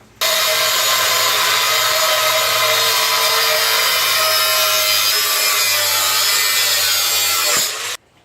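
Steel tube being ground by hand to notch it for a tube front on a drift car: a continuous loud, harsh abrasive rasp held close for about eight seconds, cutting off sharply at the end, with no voices.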